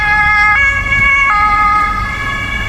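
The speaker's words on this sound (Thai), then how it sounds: "รถตำรวจไปนู้นแล้ว" A police car siren passes on a street in Oberhausen, Germany, near a public event: a loud, steady two-tone wail that steps in pitch several times over a low rumble of road traffic, with no talking.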